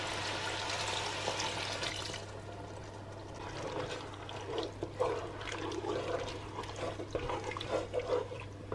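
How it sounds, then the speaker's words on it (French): Water pours steadily into a cooking pot holding tomato for a simmered stew, a continuous rushing splash over a low steady hum, close and fairly quiet, with no voices. "Je vais mettre de l'eau pour vider ici."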